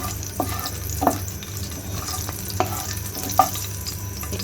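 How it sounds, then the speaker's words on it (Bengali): Whole garam masala and dried red chillies fry in hot soybean oil, a steady close sizzle with occasional sharp pops and spoon stirs scraping the pan, no talk over it. "এই যে একটু ভাজা হবে।"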